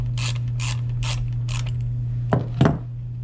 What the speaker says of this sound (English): you're gonna need a 10mm socket for this bolt right here